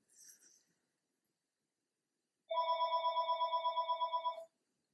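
A phone rings indoors in a quiet room, one continuous trilling electronic ring lasting about two seconds after a brief earlier rustle.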